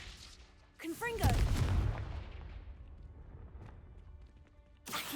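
Confringo fire spell blasts in Hogwarts Legacy, a sharp booming explosion followed by a rumbling decay, with a voice calling out the spell.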